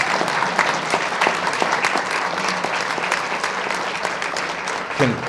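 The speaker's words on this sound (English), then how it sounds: "So if I could get one more round of applause for all of our winners." Audience applause for the winners of a city office-to-residential conversion design competition, a dense, steady clatter of many hands clapping throughout, fairly close and even in level.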